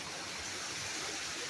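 Muddy water running down a stream makes a constant, even rushing wash, near and moderately loud, with no talk on top.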